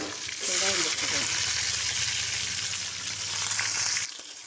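Onions, curry leaves and garlic sizzle and fry in hot oil in a home kitchen, a steady crackling hiss that continues under someone speaking, then drops away near the end.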